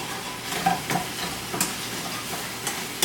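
Garlic sizzling in a frying pan while pork chops are being cooked, a steady close hiss with a few stirring scrapes and clinks over the whole stretch.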